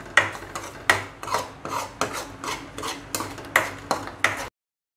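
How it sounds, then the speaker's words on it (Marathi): Mango pulp and sugar being stirred for mango burfi, heard as a run of regular rasping scrapes of a spoon against the pan, about ten strokes in a steady rhythm, close and clear with no voices. "आता हे मिश्रण आपल्याला चांगलं हलवून घ्यायचं आहे आणि घट्ट होऊ द्यायचं आहे"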